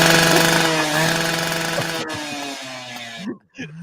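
Loud, continuous buzzing roar of a chainsaw sound effect, steady for about three seconds before cutting off abruptly, with a brief trailing burst at the end.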